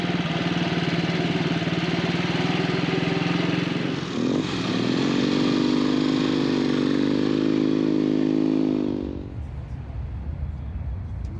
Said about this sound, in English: The course consists of 3 tight U-bends, but this bike handles so well on all 3.